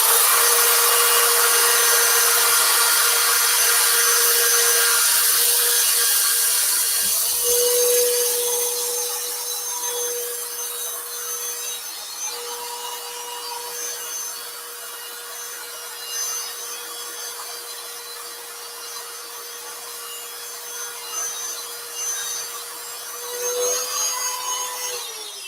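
A 60-grit power gouge sands tool marks off a wood carving, with a constant motor whine and a bright abrasive hiss close up that is loud at first and then eases a little.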